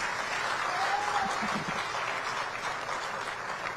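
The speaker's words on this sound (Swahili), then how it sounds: "Tuwapige makofi tafadhali." Applause from an audience at a Yanga club event about stadium construction, a steady moderate wash of many hands clapping heard from a little distance, with faint murmuring underneath.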